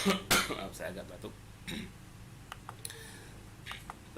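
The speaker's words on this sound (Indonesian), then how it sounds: "saya agak batuk." A person coughs and clears their throat a few times in short bursts, close and fairly quiet, with faint clicks in the background.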